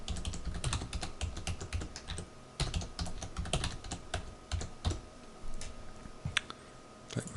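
A server password is typed on a computer keyboard, a steady run of quick key clicks and taps over a constant low room hum and noise.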